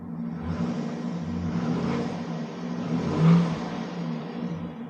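A Cadillac Escalade's engine idles with a steady low rumble, then the revs rise briefly in one short swell before settling back. The engine is heard up close, with no talk over it.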